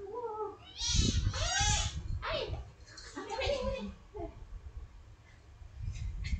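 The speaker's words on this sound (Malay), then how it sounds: "Dia bergaduh pula kucing cikgu" Cats fighting indoors, with yowling, rising caterwauls and hissy bursts, loud and close, while a voice speaks over part of it.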